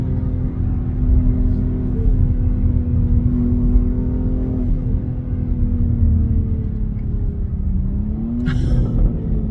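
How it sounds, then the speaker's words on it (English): A 2021 BMW X3 M Competition in Black Sapphire Metallic drones at steady revs, a deep, loud engine and intake hum with a slight pitch dip and rise near the end, alone without talk. "we'll do a little bit of revving so we can hear the intakes"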